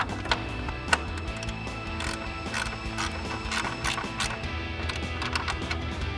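A socket ratchet clicks rapidly and continuously while tightening headlight bolts on a RAM 2500 pickup, a close, busy metallic ratcheting with uneven bursts and pauses.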